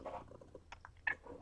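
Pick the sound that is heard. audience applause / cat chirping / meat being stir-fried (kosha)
cat chirping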